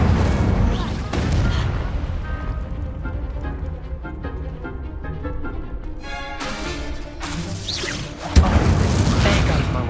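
Explosive spell blasts from Hogwarts Legacy gameplay, deep booms and crackling bursts repeating among game effects, with a voice shouting a spell name.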